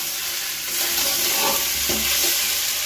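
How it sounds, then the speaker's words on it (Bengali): Vegetarian jackfruit curry frying in a pan, a steady broadband sizzle with soft stirring scrapes that swell slightly after the first second, close and continuous with no voices. "ইঁচড়ের তরকারি ভাজা হচ্ছে।"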